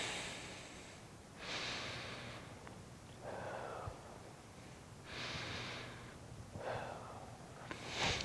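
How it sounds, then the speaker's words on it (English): Deep breathing during a taekwondo stretch, slow breaths in and out repeating about every two seconds, close and soft, with no talking. "Make sure to take a few deep breaths with this."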